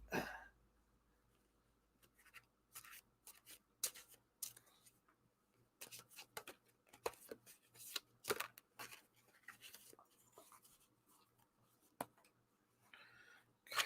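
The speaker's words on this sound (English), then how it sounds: "I really should take my bad shuffling off the screen." Tarot cards are shuffled close by in a series of brisk, irregular riffles and slaps, with quiet gaps between bursts.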